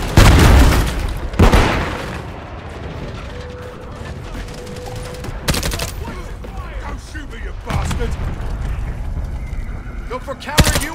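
Gunfire and explosions in the video game Modern Warfare 3 during a Hardpoint match: loud booming blasts and bursts of shots, mechanical clatter of weapon handling, and shouted voices mixed in.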